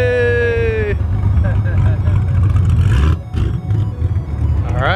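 Rally cars at a rally meetup starting up and idling, a low steady engine rumble nearby with people talking and cheering over it.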